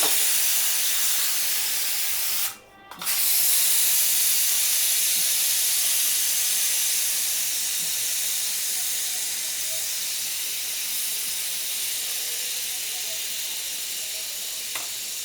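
A repaired kitchen pressure cooker venting steam, a loud continuous hiss that holds for many seconds, briefly cutting out once near the start before resuming steadily to the end.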